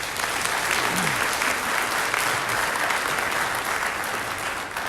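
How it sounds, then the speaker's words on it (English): A crowd applauds the candidates at a city candidate forum, sustained dense clapping from many people at steady loudness, with faint voices under it. "can we just give one more round of applause to all of the candidates up here?"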